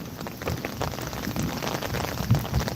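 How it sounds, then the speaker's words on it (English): Steady rain falls outdoors in windy weather, a constant close hiss with scattered heavier drop taps and no voices. "It's raining."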